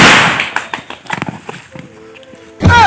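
Firecrackers bursting at a village Diwali celebration, a quick run of sharp cracks and pops up close, followed by a louder blast at the end.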